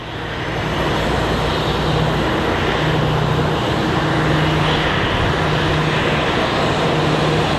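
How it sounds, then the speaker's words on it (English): A United Boeing 737 MAX airliner comes in to land at Sky Harbor International Airport, a loud, steady broadband engine roar with a low drone, building at the start and then holding constant. "737 MAX, I believe, coming in."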